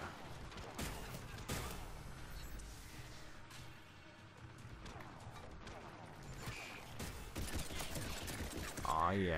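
Gunfire and impacts from the video game Mass Effect 3, Leviathan DLC, with repeated bursts and crashes layered over busy game noise, while someone talks through much of it.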